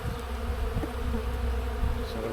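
A honey bee colony hums steadily and close during a hive inspection as frames are added, a continuous low buzz with individual bees droning past, no talking.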